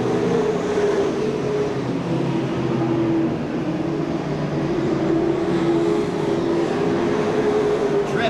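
Stock cars race at Seekonk Speedway, their engines merging into a continuous loud roar with a droning whine that shifts in pitch as cars pass. An announcer talks over the engines.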